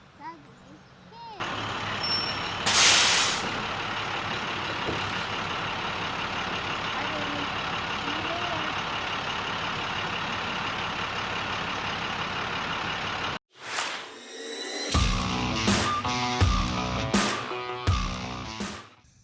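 School bus pulling up for the first day of 3rd grade, a steady diesel engine rumble with a sharp air brake hiss, then a cut to clattering and engine noise, with people talking over it.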